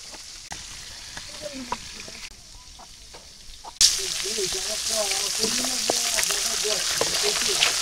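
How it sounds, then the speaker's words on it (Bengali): Fish frying in oil in a village kitchen: a quiet stretch with light clinks gives way to a loud, steady sizzle that fills the rest of the clip, with faint voices in the background. "মাছ ভাজা হইতে থাক"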